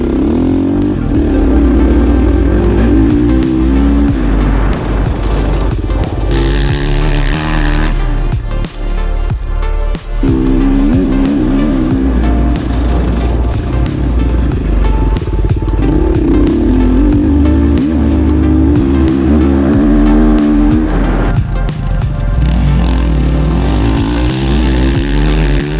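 A motocross motorcycle engine revs hard during a training session, screaming and rising and falling continuously as the bike accelerates and backs off, loud and close throughout with no speech.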